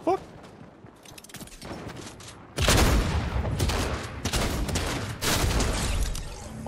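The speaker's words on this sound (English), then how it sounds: "Oh, where am I getting shot from?" Fortnite gunfire comes as a few sharp early shots, then dense bursts of rapid shooting in heavy volleys, loud and close, under a player's talk.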